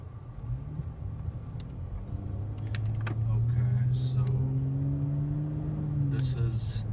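A car drives along a road in Dubai with a steady low engine rumble that rises slightly in pitch and holds, heard from inside the cabin with a few faint clicks and knocks.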